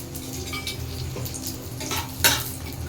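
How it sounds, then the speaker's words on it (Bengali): Raisins and cashews frying in ghee in a home kitchen give a steady soft sizzle, with utensils clinking and stirring throughout and one sharper clatter near the end; no one speaks. "কিশমিশ কাজু বাদামগুলো দিয়ে দিলাম, এটা একটু ঘিতে ভেজে নেব।"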